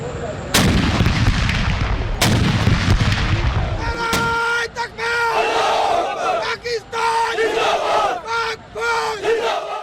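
Pakistan Army soldiers chanting Nara-e-Takbeer Allahu Akbar during an Eid Milad un Nabi gun salute, their loud massed shouts following two heavy booming cannon blasts from the salute.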